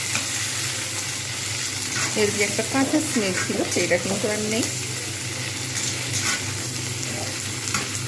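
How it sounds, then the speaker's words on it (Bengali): Broad beans and potatoes sizzle steadily in a pan, a continuous close frying hiss with occasional stirring, while a person speaks briefly over it. "শিম এবং আলু সুন্দরভাবে ভাজা হয়েছে।"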